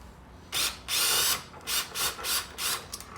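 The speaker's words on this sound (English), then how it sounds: "I've got a homemade electric impact." Homemade electric impact wrench backing a nut off a car strut: a series of loud, close bursts of buzzing hammering, one long run then several shorter pulses.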